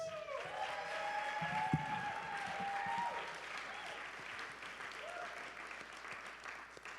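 Audience applause at the IAWTV Awards 2018 ceremony, a steady wash of clapping from a crowd filling the room at moderate distance, with a faint voice and tonal sounds underneath as it slowly tapers.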